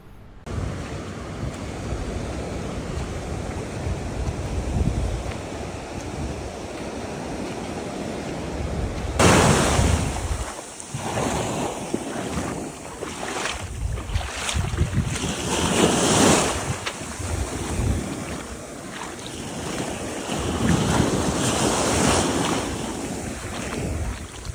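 Ocean waves wash and break continuously close by, with strong wind noise on the microphone and swelling surges of surf throughout, no talking.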